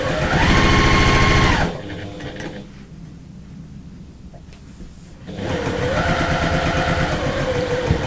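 Sewing machine stitching a fabric bag, a loud rapid mechanical chatter running close up, pausing for a few seconds, then starting again at a steady pace.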